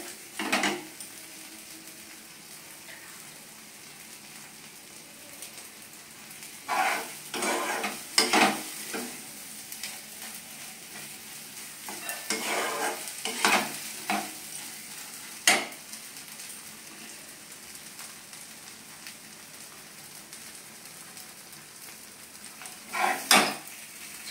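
A spatula stirs pointed gourd mash in a frying pan, giving faint soft scrapes and occasional sharper clacks against the pan in irregular bursts over a low, quiet background.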